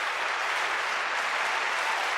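Opera audience giving a standing ovation, a dense, even wash of many hands clapping at once, steady and full throughout with no pauses.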